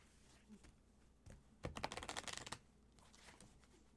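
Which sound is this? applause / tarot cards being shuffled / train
tarot cards being shuffled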